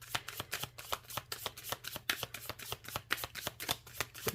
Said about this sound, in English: I'm going to pull a couple more cards from the Witch's Oracle